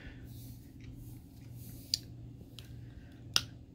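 Plastic wrapping peeled from a CD single package, soft close crinkling and rustling with two sharp crackling snaps, quiet and near, with no voices.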